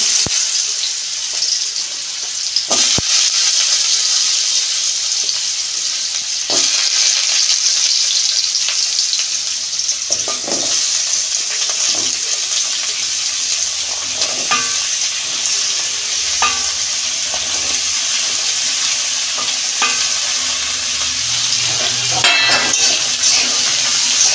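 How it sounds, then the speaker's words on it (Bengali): Mixed vegetables frying in white vegetable oil for a niramish curry, a continuous loud sizzle with occasional stirring scrapes and clinks close by, no voices. "সবজিগুলো ভেজে নিচ্ছি।"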